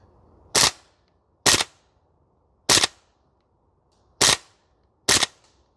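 Archwick APC9K PRO gas blowback airsoft rifle on a range, firing five sharp, punchy single cracks spaced about a second apart, close and loud against a quiet background.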